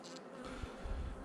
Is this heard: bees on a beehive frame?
yes